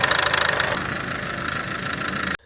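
A Ford Mondeo engine, freshly running after an injector reseal, idles with a steady close rattle before cutting off abruptly at the end.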